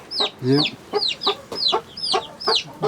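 Young chicks in a poultry coop chirp loudly, a rapid string of about eight sharp, rising peeps spaced in a quick steady rhythm, close and clear with one lower cluck mixed in.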